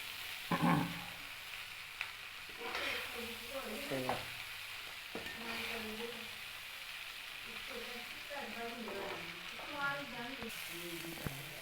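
Ginger pickle stirred and fried in a pan over low heat: a continuous sizzle with repeated scraping strokes of a spoon against the pan, close and moderately loud, with faint voices in the background.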